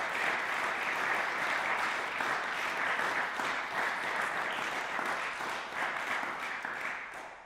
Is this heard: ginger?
no